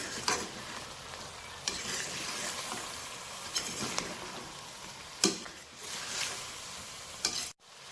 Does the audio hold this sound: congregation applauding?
no